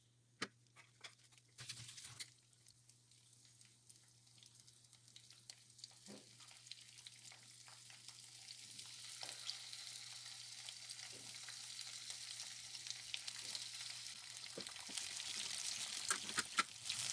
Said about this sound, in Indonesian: Selanjutnya kita akan menumis bumbu yang akan dihaluskan, yaitu bawang merah, bawang putih, cabai merah, rawit merah,